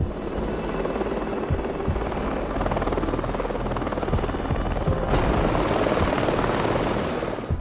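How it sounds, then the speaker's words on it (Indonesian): A helicopter drones steadily with a dense, throbbing rotor roar that stays loud and constant throughout, no voices. "Iceman pun dibawa dengan menggunakan sebuah helikopter ke penjara Sweetwater."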